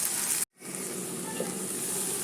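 Tamarind curry crackles and sizzles steadily in a pan while it is stirred, with a brief sharp break near the start before the frying resumes. No voices are heard.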